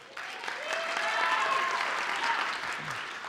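Audience applauding at a high school spring concert, a sustained crowd of claps that swells and then tapers, with faint cheers and voices mixed in.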